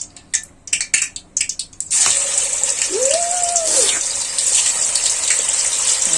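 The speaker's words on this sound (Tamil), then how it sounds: "இப்போ வறுக்க போறோம்" Close clattering gives way to a sudden loud, steady hiss as chicken coated in masala drops into hot oil and keeps frying.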